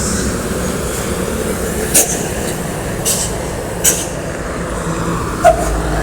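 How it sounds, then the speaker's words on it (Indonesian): A convoy of heavy Pantura and Sumatra trucks rolls past a roadside bus pool, a steady loud engine rumble with a few sharp air-brake hisses standing out along the way. "ini rombongan truk-truk Pantura, truk Sumatera ya, melintas"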